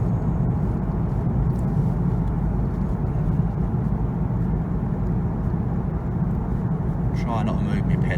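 A Porsche 911 with a PSM fault cruising at 30 mph in third gear, a steady low engine drone and road rumble from inside the cabin.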